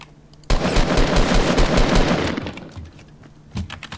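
Rapid automatic gunfire in the video game TANX starts abruptly, a loud sustained burst of shots for about two seconds, fading into scattered pops and a final sharp report, with no talking.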